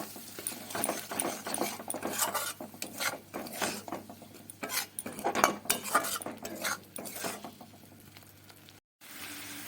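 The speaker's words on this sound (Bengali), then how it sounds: "আবারও একটু কষিয়ে নেব" Capsicum masala with sour yogurt being sautéed in a pan, with irregular clinks and scraping of a spoon against the pan over a low, continuous sizzle.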